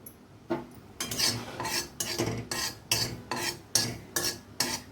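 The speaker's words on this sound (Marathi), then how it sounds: "कढई गरम असते त्यामध्येच थोड्या तीळ भाजून घ्यायची" A spoon scrapes rhythmically across a hot kadhai about once a second, sesame and poppy seeds rattling and faintly crackling as they roast, close and steady.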